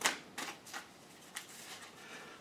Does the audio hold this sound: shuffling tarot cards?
yes